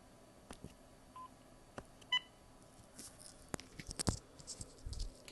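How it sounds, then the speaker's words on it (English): A short electronic keypad beep from a VTech CS6124-11 DECT 6.0 cordless phone with digital answering system, faint and brief amid quiet handling clicks and scratches. "Press 5 when you're done recording your memo"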